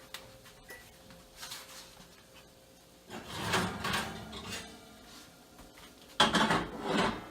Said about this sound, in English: Let's get out our other pan.